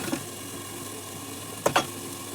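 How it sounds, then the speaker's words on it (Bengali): Okra and potatoes fry in a pan with a steady, soft sizzle, broken near the end by two brief clattering stirs or scrapes; no voices are present. "ভাত হচ্ছে এখানে ভেন্ডি আলু ভাজা করছি"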